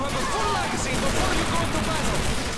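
Shotgun fire in the video game Call of Duty 2: a loud, dense, continuous barrage of gunfire that fills the whole stretch, with a voice talking over it.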